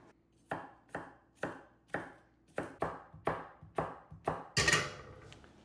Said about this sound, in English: finely dice an apple